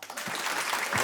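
A live comedy-show audience applauds to vote, a broad wash of clapping that swells quickly and holds loud and near.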